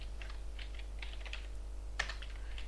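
Keys on a computer keyboard are tapped in a quick, uneven run of soft clicks, close by, with one sharper press near the end over a low steady hum.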